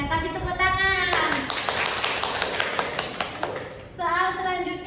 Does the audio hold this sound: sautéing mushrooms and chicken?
no